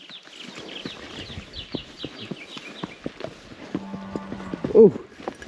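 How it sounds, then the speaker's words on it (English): Horse hooves clip-clop on a rural trail in Cuba, with soft, uneven steps under outdoor ambience and brief talking, followed by a short tonal hum and a louder burst near the end. "So he's having to move a horse out of the way because its rope was going across the trail."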